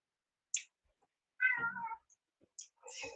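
A hungry cat meows indoors in a quiet room: a short high chirp, a longer drawn-out meow, then a few more brief calls, close and fairly soft with silence between.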